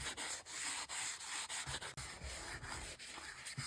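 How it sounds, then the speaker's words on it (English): A toothbrush scrubs sanded particles off a ceramic Smurf garden figurine in quick, close rhythmic strokes, a crisp dry scratching with brief pauses between passes and no talking. "we use a simple, everyday tool, a toothbrush, to clear away the sanded particles"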